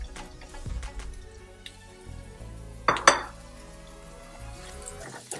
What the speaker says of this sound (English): Now I'm going to saute the vegetables. I will saute first the carrots, takes longer time.